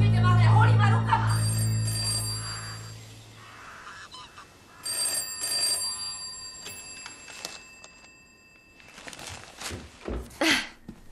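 A telephone rings in a scene from the period crime drama Hercule Poirot, its bell tones sounding in bursts amid other room noises while voices talk around it.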